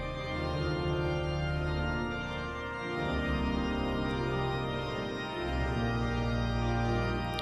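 A pipe organ plays Bach's St. Anne Prelude in sustained, rich chords that swell and shift, with deep bass notes resonating in a large reverberant space.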